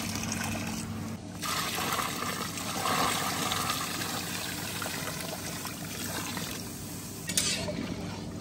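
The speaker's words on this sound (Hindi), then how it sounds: "तो यहाँ पे सेवइयों में पानी डालेंगे।" Water is poured into roasted handmade vermicelli in a pan and stirred, giving a steady close-up sizzle and sloshing hiss with scraping stir strokes and a brief clatter, no talk.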